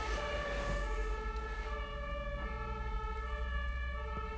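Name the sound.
police car or ambulance siren passing by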